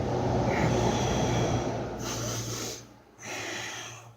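Heavy, rhythmic breathing through the nose and mouth during a set of push-ups, with forceful snort-like exhales and one brief pause before the breathing resumes. It sounds close and fairly loud over a steady low background hum.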